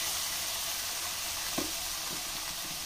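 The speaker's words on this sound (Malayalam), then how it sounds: "ഇനി നമുക്ക് ഇതിലേക്ക് തക്കാളിയാണ് ഞാൻ ചേർത്ത് കൊടുക്കുന്നത്." Chopped tomato fries with potatoes in a pan, giving a steady close sizzle with a few soft stirring scrapes.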